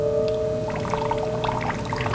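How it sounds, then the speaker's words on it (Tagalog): Water from a shower runs in a steady, continuous pour close by, with a faint hum underneath and no talking. "Ayan, may tubig!"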